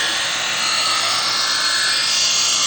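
A knife is drawn through the second stage of a handheld sharpener, a loud, continuous harsh grinding rasp held close throughout.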